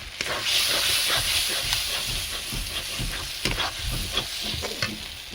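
Spices, ginger and two spoons of turmeric are stir-fried for a village-style chicken curry: a close, steady sizzle with repeated scraping stirring strokes and scattered knocks of the utensil against the pan.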